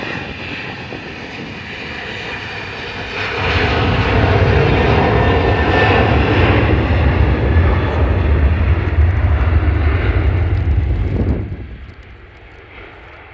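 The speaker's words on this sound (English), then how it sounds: "Ryanair 737-800 on a takeoff roll." A Ryanair Boeing 737-800 accelerates down the runway on its takeoff roll at Manchester Airport, its engine roar swelling to a loud, steady broadband rush for several seconds before easing away into quieter background.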